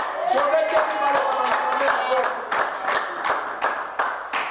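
A church congregation claps in steady rhythmic time, a loud, close patter of many hands, while a preacher speaks and sings over it.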